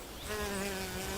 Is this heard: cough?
no